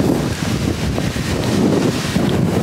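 Strong hurricane wind roars steadily against the microphone, a loud continuous buffeting rush with no voices.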